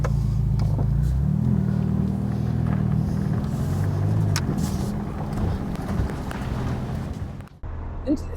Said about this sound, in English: let's see if it drives like a proper Ferrari.